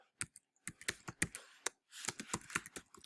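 Someone types HTML code on a computer keyboard in irregular clusters of crisp, close key clicks, with a quick flurry of keystrokes toward the end.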